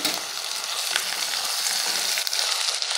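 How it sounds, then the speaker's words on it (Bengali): Plain unseasoned beef hitting hot oil in a pan gives a loud, steady frying hiss that fills the whole clip, with faint stirring scrapes; no one speaks. "এখন আমি এই সাদা মাংসটা, কোনো মশলা ছাড়া সাদা মাংসটা এখানে ঢেলে দিচ্ছি।"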